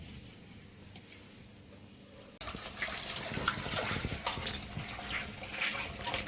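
Tap water runs steadily over home-grown chukka kura (sorrel leaves) being washed for a chana dal curry, a quiet hum opening into a louder rushing, splashing flow after a couple of seconds, no talking.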